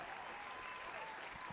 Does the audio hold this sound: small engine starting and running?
no